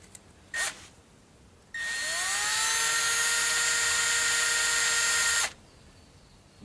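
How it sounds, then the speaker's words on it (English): Power drill boring through the middle of a part for a nylon-string acoustic-electric guitar: a brief tap, then a steady high whine that runs for about four seconds and stops abruptly, close and fairly loud. "And then we'll drill through the middle of it."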